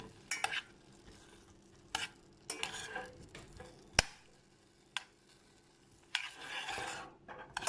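Spoon scraping and stirring through melted butter in a cooking pot of strained broccoli, in intermittent close strokes with sharp knocks against the pot, some faint sizzling between them and no talk.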